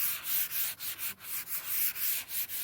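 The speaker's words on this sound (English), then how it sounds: "just a very light sanding." Light hand sanding of an antique wooden curio shelf with 240 grit foam: a soft, steady back-and-forth scratchy rubbing in quick regular strokes, close up and alone.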